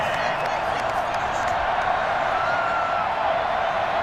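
A Madden NFL 21 stadium crowd in a Titans versus Texans game drones in a steady, loud, displeased roar that holds without a break from start to end.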